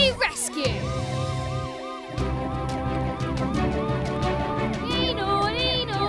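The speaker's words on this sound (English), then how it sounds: "You can use the siren to alert everyone that you're rushing to an emergency." Cartoon ambulance siren wailing in rising and falling sweeps, repeating steadily for several seconds over background music and children's voices.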